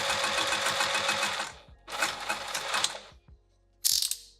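A sewing machine runs long basting stitches while a roll-up wrap is made, three rapid whirring bursts of motor and needle chatter separated by short pauses, the last burst brief and sharp, with no talking.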